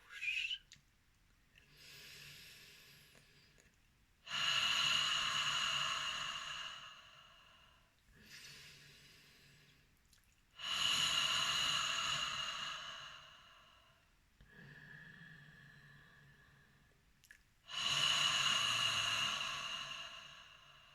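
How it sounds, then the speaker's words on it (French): Slow, deliberate breathing repeats about three times: long, soft nasal inhales alternate with louder, airy exhales through the mouth, each breath close to the microphone and separated by quiet pauses. "On inspire lentement par le nez, on expire profondément par la bouche."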